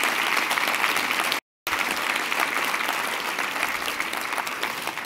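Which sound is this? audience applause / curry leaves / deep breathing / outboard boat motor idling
audience applause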